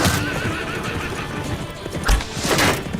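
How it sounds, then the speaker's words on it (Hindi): Horses neigh loudly in a battle scene while hooves clip-clop around them, with whinnies and stamping continuous throughout and no voices. "हुजूर, घोड़े छोड़ दो सारे।"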